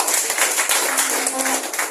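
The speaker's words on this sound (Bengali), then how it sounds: "জোরে একটা হাততালি চাই" An audience claps loudly and steadily, with dense overlapping hand claps forming a continuous patter for the whole moment.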